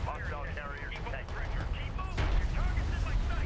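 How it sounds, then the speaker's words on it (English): Honor Guard cruisers fire cannon shots during a 3v3 battle in the strategy game Deserts of Kharak, with heavy booming bursts rumbling under continuous speech. "Let's see these Honor Guard cruiser shots."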